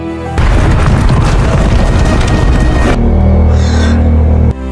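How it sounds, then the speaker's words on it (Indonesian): A loud, sustained explosive roar with rumbling low end, lasting a few seconds before cutting to a lower, steady rumble that continues afterward. "Mereka pun segera keluar dan tempat itu seketika meledak."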